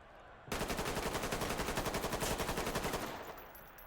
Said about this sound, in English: So we will just do our full auto and with a fresh mag, and we'll kind of note the difference.